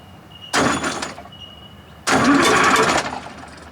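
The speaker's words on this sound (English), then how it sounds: "Just as I got in and started winding the starter, the battery went flat, but she didn't go anyway." Supercharged two-stroke Nissan diesel with the muffler removed, its starter cranking in two bursts, a short one then a longer grinding one, close and loud, without the engine catching.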